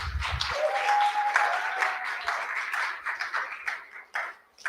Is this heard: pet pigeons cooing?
no